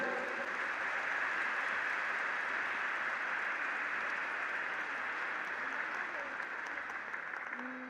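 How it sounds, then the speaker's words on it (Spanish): Steady applause from a congregation at a catechists' gathering welcomes a youth pastoral coordinator, an even, sustained wash of clapping heard from some distance, fairly faint throughout. "Recibámoslo con un fuerte aplauso."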